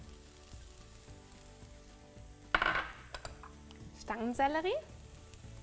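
Garlic, chopped mushrooms and vegetables sizzle in a frying pan for a vegan filling, a soft steady fry under a voice speaking German, with a sharp clatter of ingredients going in and a stirring scrape near the end.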